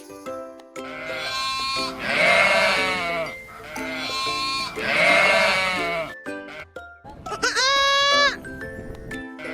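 Goat bleating, several loud drawn-out harmonic bleats in a row, with a shorter wavering call at the end, close and clear with no talk.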